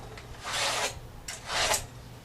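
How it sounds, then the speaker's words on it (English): Utility knife scoring sheetrock from the top side, two close rasping scrape strokes about a second apart, each rising and fading. "I'm cutting from the top of the sheetrock."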